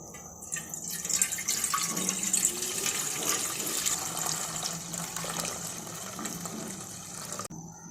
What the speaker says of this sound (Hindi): इसमें 1 किलो दूध डाल देते हैं